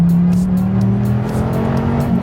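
A 2016 Dodge Viper GTC driven hard on a race track, its engine roaring in a loud sustained drone from inside the car, the pitch holding steady and climbing slightly.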